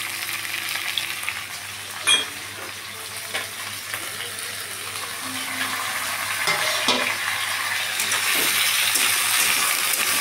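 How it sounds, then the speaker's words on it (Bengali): Chopped tomatoes hit a pan of softened onions and fry with a steady, loud sizzle that builds and stays constant, with a sharp clatter early on and occasional stirring scrapes. "পেঁয়াজটা নরম হয়ে গেছে, এবার দিয়ে দিচ্ছি আমি কুচনো টমেটো।"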